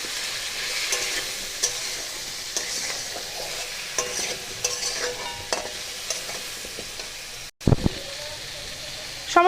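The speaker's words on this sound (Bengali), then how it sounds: "এটাকেও এবার একটু ভাজা ভাজা করে নেব।" Winter vegetables with salt and turmeric fry and get stirred in a pan, a steady sizzle broken by repeated scraping stir strokes and a brief clatter near the end, with little talk.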